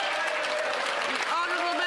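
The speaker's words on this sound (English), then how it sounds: "Clapping for Mr. failure." Members of parliament clap in the House during Question Period, a brief burst of crowd applause mixed with voices talking over it.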